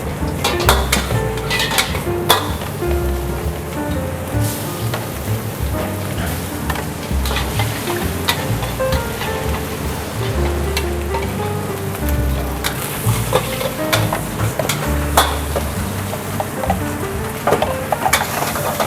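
Garlic and oil sizzle in a large wok while Singapore fried rice is cooked in ten portions, a dense continuous frying hiss with frequent metallic scrapes and clanks of a utensil against the pan.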